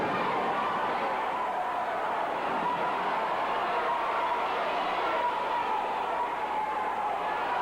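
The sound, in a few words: wrestling crowd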